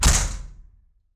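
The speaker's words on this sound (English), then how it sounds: "Close the door because he won't stop screaming in Spanish for hours." A door swings shut with a single heavy thud and a brief rattle that decays within about a second, close and fairly loud, with no talking.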